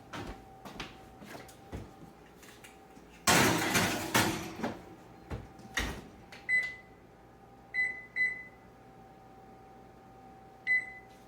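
An oven door opens and a dish slides inside, heard as a burst of rattling and clunking, followed by scattered clicks and several short electronic beeps from the oven controls, close by, with no speech.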